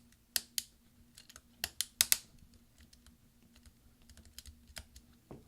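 Right command key on a 13-inch MacBook Pro Unibody Core 2 Duo being pressed down onto its hinge clips, giving a series of sharp, close snaps and clicks, a few louder catches followed by lighter taps.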